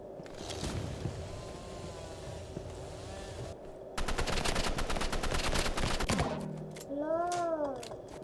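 Rapid assault rifle fire in a shooter video game, a dense burst of automatic shots in the middle with other game effects and tonal sounds around it.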